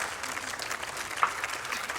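An audience at a live news update show claps in brief, moderately quiet applause, a steady patter of hands with no distinct voices.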